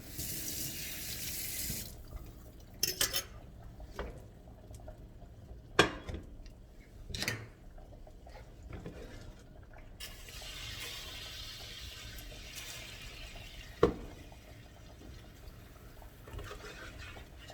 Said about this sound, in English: I'm cleaning a little bit the pot because, as you understood, in this temporary house I don't have many tools.